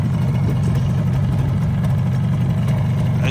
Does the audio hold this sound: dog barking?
no